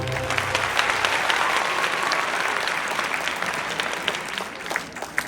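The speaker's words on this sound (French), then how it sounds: "On peut l'applaudir très très fort, Monsieur Benoît Gauguin." A tea-dance audience at an orchestra event applauds musician Benoît Gauguin, with dense, steady clapping throughout and no break in the sound.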